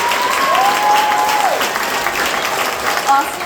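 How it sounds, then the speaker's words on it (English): Graduation audience applauding, a dense crowd clapping throughout with a whistling tone sliding across the start and faint voices mixed in. "let's give the biggest round of applause for the biggest heart at EDS"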